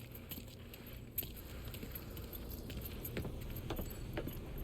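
Keys jangling in the Mafia III video game, a few light metallic rattles and clinks over a low steady background hum, fairly quiet and close.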